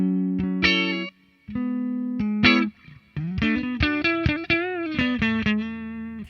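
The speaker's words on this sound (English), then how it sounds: "that reverb doesn't really bother me too much." Electric guitar plays short chords and single notes, starting and stopping, with a distorted tone and reverb tail.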